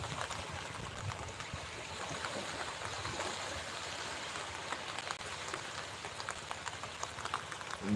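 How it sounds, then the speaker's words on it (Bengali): Choppy water of the wide Baleshwar river near the Sundarbans mangrove forest, heard from aboard a moving trawler at low tide: a steady, broad wash and splashing of waves, continuous and fairly close, with no talking. "ঢেউয়ের সাউন্ডও পাওয়া যাচ্ছে"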